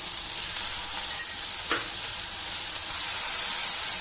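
Onion paste sizzles steadily in a hot pan, with garlic paste added just before, a continuous bright hiss of frying throughout with one faint stir or clink partway through and no voices.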